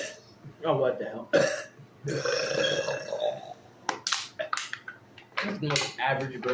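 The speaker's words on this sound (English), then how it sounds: "That's the most average burp." A burp erupts among excited voices in a close indoor setting, loud and abrupt, with several sharp sounds and chatter around it.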